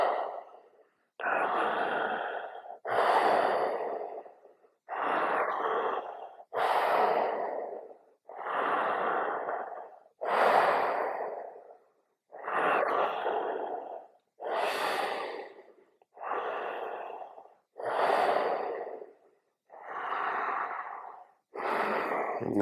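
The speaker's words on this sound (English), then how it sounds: "I'm going back to mouth breathing in and nose breathing out now" Slow, deliberate breaths drawn in through the mouth and let out through the nose, about a dozen full cycles in a steady, even rhythm, close and clear with no talking.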